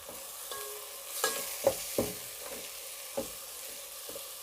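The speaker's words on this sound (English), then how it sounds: "Then I'm going to stir it" Beef pilau with tomatoes is stirred in a pot, a spoon scraping and knocking in a few sharp, irregular strokes over a soft background sizzle.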